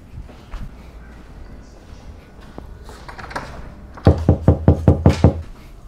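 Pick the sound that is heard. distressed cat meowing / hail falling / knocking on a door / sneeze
knocking on a door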